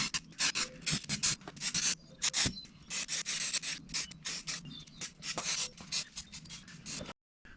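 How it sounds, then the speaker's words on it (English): Sandpaper lightly rubbing back and forth across a primed Dodge Ram 2500 truck panel in quick, uneven strokes, a close scratchy rasp with brief pauses. "I'm going to give this another real kind of light sanding"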